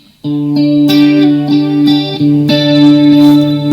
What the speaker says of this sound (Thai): จะกลายเป็นเหมือนดีเลย์มีคอรัสด้วยนะ